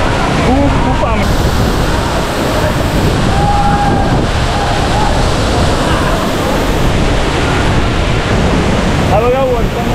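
A tall waterfall plunging over a high cliff near Kolhapur roars as steady, dense broadband rushing water, loud and close throughout, with faint voices and brief whistling tones over it.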